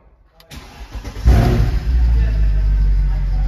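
A stock Mercedes W204 C63 V8 cold-starts up close: the starter cranks briefly, the engine catches with a loud flare-up, then settles into a deep, rumbling high idle.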